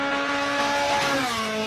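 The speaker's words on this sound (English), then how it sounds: "why does that rev limiter on that Toyota hit different?" Toyota rally car engine at high revs bouncing off the rev limiter during a European rally, a loud, steady buzzing drone with strong harmonics that wavers slightly, with no talk over it.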